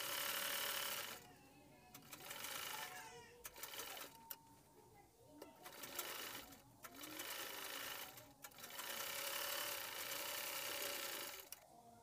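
A sewing machine stitching a seam on trousers, running in several fast whirring bursts of about two seconds each, separated by brief pauses, close and clear.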